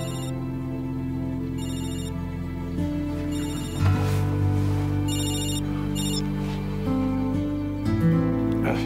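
A telephone ringtone sounds in repeated short electronic bursts over steady background music, with no talking, in an indoor scene from a German soap opera.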